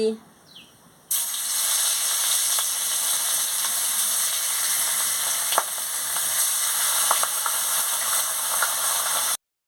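Rohu fish pieces hit hot oil in a wok, and after a quiet second a loud, dense sizzle bursts in and holds steady, with occasional sharp crackles, until a sudden cut at the end.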